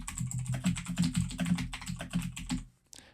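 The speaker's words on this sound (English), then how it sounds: "Type "Hello, my name is James" on your keyboard" Keys clack in an uneven, pecking rhythm as someone types on a computer keyboard using only two fingers, close and clear, ending with a harder spacebar hit after a short pause.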